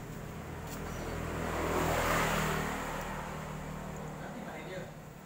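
A Honda Vario 110 scooter engine is kick-started while its CDI unit is missing: a continuous mechanical churn and engine-like rumble that swells to a peak midway, then eases back, fairly close and steady throughout.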